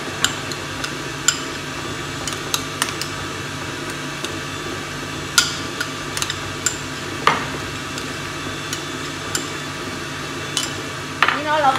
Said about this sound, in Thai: เราก็จะผสมโยเกิร์ตกับกล้วยเข้าด้วยกันนะคะ